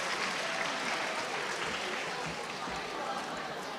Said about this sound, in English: so let's give her a big applause